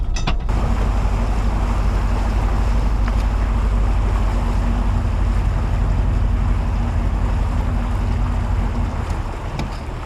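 A small boat motors in slowly to beach on a shore while out mud crabbing, with a steady low engine drone and a steady rush of wind and water that is loud and close throughout.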